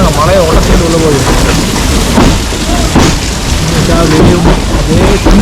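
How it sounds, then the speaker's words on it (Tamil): Heavy rain pours steadily and loudly throughout as a train travels from Hubballi to Goa near Dudhsagar Falls, with a voice speaking in Tamil over the downpour. "அப்படியே மழையை உடச்சிக்கிட்டு உள்ளே போகிற மாதிரியே"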